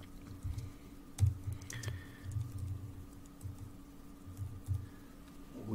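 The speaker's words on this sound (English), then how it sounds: "you'll see here when I type in photo by Mr. Stansfield," Typing text on a computer keyboard, soft irregular key clicks in quick clusters, close and fairly quiet, with no talking.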